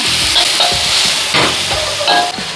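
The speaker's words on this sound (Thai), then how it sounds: "เอากระเทียมกับพริกลงไปผัดก่อนเลยค่ะ" Garlic and chili stir-fry in a little oil over medium heat for a Thai jungle chicken curry, a loud, close sizzle with quick scraping stirs throughout.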